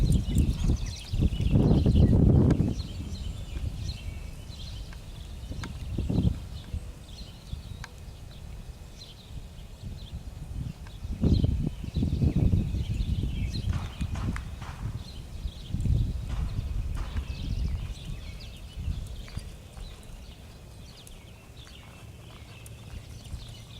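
A horse walks in a pen, its hooves giving soft, irregular clip-clop thuds at moderate distance, with birds calling faintly in the background.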